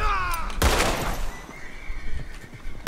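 A horse neighs in the Red Dead Redemption video game, with a loud, close whinny at the start, a sudden noisy burst, then scattered rustling and thuds.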